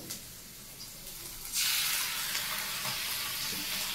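Garlic paste, ginger paste and tomato paste spices hit a hot pan and break into a loud, steady sizzle that starts abruptly partway through and continues close up without talk.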